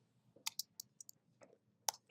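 A computer mouse gives a quick run of sharp, faint clicks close up during an iOS programming lesson, including a double click, against a quiet background.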